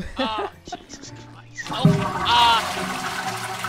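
Overflowing toilet in GTA 5, a rushing, gurgling surge of water swelling up after a brief exclamation, loud and close, with voices talking over parts of it.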